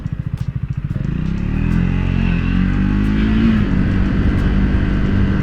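A Triumph Speed 400 motorcycle rides through city streets. The engine's pulsing idle rises into a steady, loud, close drone as it pulls away.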